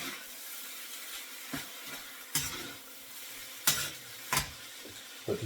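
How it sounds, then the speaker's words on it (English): Rice is tipped into a pan of softened onions and stirred, giving a quiet steady sizzle broken by several sharp scraping clacks of a utensil against the pan. "now that we've got the onions softened, we're going to add the rice to it"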